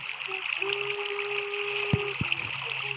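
Water sloshes and splashes as a character swims in Minecraft, a steady close wash of liquid noise with a couple of sharper splashes midway and faint tonal game sounds underneath.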